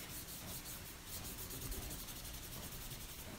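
Cajun Craze ink is rubbed over a card as a steady, soft scratchy friction that runs continuously and faintly without a break, with no voices.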